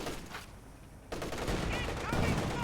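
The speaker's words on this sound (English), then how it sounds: "And now got a single strafing run." Aircraft strafing run gunfire in the World War II strategy game Company of Heroes 2, a burst of rapid shots and impacts rising sharply partway through, with a commentator talking over the battle.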